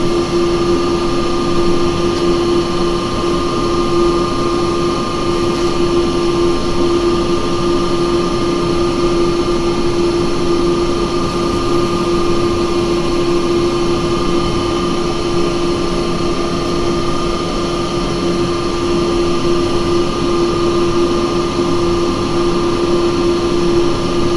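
Coconut being sanded on a woodturning lathe, a steady continuous whir and hiss with a strong motor hum, loud and unbroken throughout with no talking.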